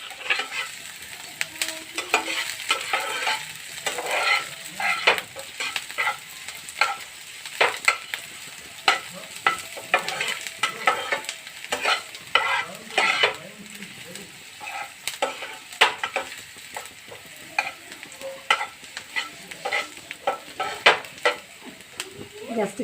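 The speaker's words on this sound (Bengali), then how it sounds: "পেঁয়াজটা যেন তাড়াতাড়ি ভাজা হয়ে যায়।" Onions fry in a pan with a little sugar over raised gas heat, a steady loud sizzle broken by frequent scraping stir strokes and spatula clinks, with some faint talk underneath.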